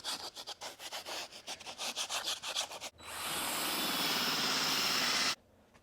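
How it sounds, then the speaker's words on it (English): A drill-driven brush scrubs stains out of the cloth seats of a cheap Subaru WRX, starting as a rhythmic back-and-forth rubbing and then settling into a steady, loud whirring scrub for a couple of seconds before stopping abruptly. "These things are what really get the stains out in like a drill brush."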